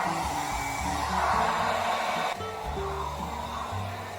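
A hair dryer fitted with a diffuser, drying curly hair, blows with a steady, loud airy roar throughout, its tone shifting slightly partway through, with no one talking over it.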